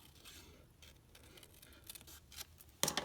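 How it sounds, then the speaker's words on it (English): Scissors cut around a foil flower image for a card project, soft rasping snips that build to a louder, brighter crunch of cutting at the end. "I just cut around the foil image"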